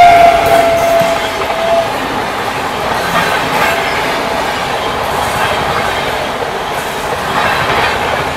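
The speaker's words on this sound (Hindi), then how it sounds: "12309 राजेंद्र नगर पटना न्यू दिल्ली तेजस राजधानी एक्सप्रेस आती हुई" The 12309 Rajendra Nagar Patna to New Delhi Tejas Rajdhani Express passes close by, with a loud continuous roar of wheels and coaches and a brief horn-like tone at the start.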